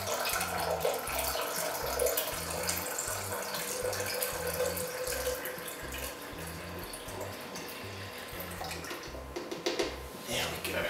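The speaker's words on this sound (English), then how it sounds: "I'm going to pour the sulfuric acid in very carefully." Liquid sulfuric acid poured carefully into a container, giving a steady trickling, faucet-like flow that runs for several seconds, heard close up beneath a low rhythmic background sound.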